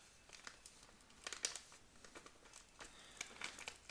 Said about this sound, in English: Get our knife back out. We're going to cut that open and dump it in.